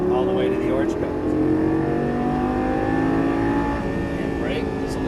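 A Lamborghini Gallardo LP550-2 accelerating out of a turn, its engine holding a loud, steady drone with a slowly rising pitch, while an instructor talks over it.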